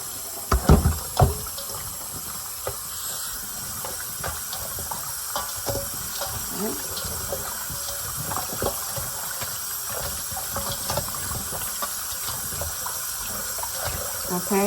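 Pork ribs are washed under a running kitchen tap, with steady splashing water filling a sink and intermittent thuds and handling noises as the meat is rinsed up close.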